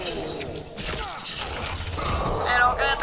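A character's butt smash attack in a video game lands with clattering, shattering mechanical impacts and ratcheting effects, a busy burst of game sounds building louder toward the end.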